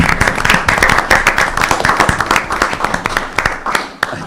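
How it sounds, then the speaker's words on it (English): A city council meeting audience claps steadily and fairly close for about four seconds, a dense patter of hands that tapers slightly at the end. "So let's clap."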